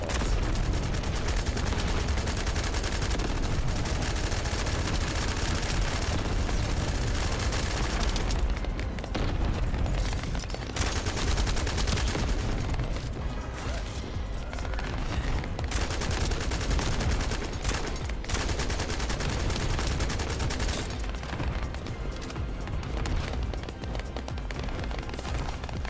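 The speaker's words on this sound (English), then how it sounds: "We're trying to buy you time by shooting lava balls." Sustained gunfire and explosive booms as lava balls are shot in The First Descendant, a continuous, loud barrage of overlapping blasts with brief dips but no real break.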